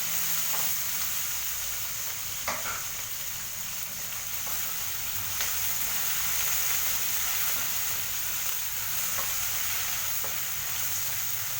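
Curry leaves, garlic and tomato frying in a pan, with a steady close sizzle throughout and a few faint stirring clinks.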